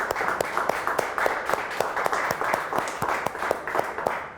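Audience at a talk on electrical cables and conductors clapping for an engineer, a rhythmic, fairly close applause of a modest crowd with distinct individual claps.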